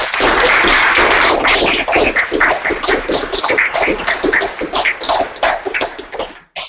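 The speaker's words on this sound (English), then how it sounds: "let's give our speaker a round of applause" Audience applause for a seminar speaker at the close of an online talk, dense clapping from a modest group heard through a narrow, compressed connection, tapering off before cutting out.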